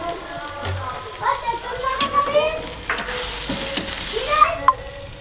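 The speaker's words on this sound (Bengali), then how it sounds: "লঙ্কা গুঁড়ো একটু দেবো দিয়ে এবার করছি যতক্ষণ না তেল ছাড়বে ততক্ষণ কষতে থাকবে" Spices with chilli powder frying and being stirred in oil, a soft sizzle under scraping and clinking of a spatula in the pan, with a voice talking briefly over it.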